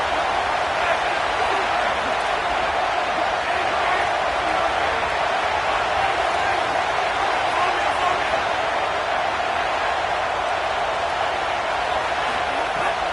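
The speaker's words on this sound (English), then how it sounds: "this crowd trying to help this defense rise to the occasion" A football stadium crowd roars steadily on fourth down, a dense, sustained wash of cheering and noise that runs continuously beneath a commentator's voice.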